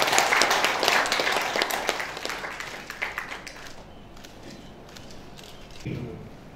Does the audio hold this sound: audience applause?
yes